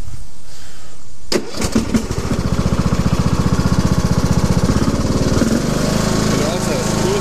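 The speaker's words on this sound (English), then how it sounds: "If you sit on it, you can restart it." A Husqvarna riding lawn mower engine cranks and restarts, catching after a sharp start and settling into a loud, close, rapidly pulsing run. A voice speaks briefly.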